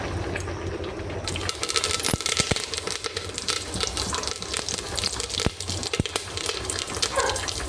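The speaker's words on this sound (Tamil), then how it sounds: "எண்ணெய் ஊற்றிட்டு கொஞ்சோண்டு கடுகும் கருவேப்பிலையும் கடுகு போட்டாச்சு. கொஞ்சம் பொரிஞ்சு வரவும் கருவேப்பிலையை போட்டுற வேண்டியதான்." Mustard seeds and curry leaves spluttering in hot oil in a home kitchen, a loud, dense crackle of rapid pops and sizzling that keeps going steadily, with no talk over it.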